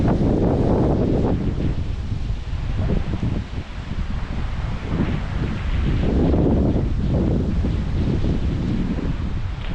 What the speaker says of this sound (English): The wind is not being very cooperative.